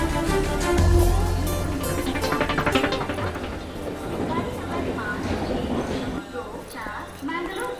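A train passing with a rhythmic rumble and clatter of rail wagons, fairly near and fading slightly, while people talk over it.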